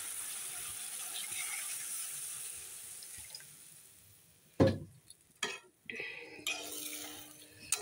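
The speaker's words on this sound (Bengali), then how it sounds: "এখন আস্তে আস্তে নেড়ে দিই" Fish curry masala with water in a pan is stirred quietly after a soft running-water hiss, then several sharp clattering scrapes and sloshing bursts come as the spoon works through the liquid.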